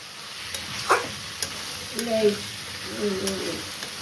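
Hilsa fish head and bottle gourd curry fries and is stirred in a pan, a soft sizzle broken by a few light clinks and scrapes, with a voice heard faintly in the background.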